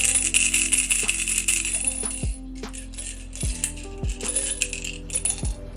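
Small dice rattle as they are shaken, then clatter and bounce a few times in sharp clicks as they land on a hard surface, close and alone.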